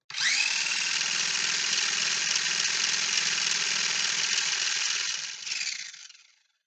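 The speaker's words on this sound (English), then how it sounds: "really listen to that engine." Electric motor of a modded New Bright rat rod RC buggy whining at a steady high pitch for about five seconds, rising briefly before spinning down and fading out, close and alone.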